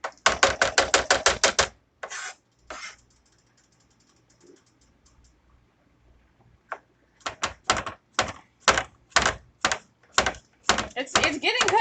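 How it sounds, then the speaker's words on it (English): Knife chopping garlic on a cutting board for a weight loss soup, rapid sharp taps in quick bursts, then a pause with a soft voice before slower, evenly spaced chops resume, close and crisp. "I can't cut garlic for shit."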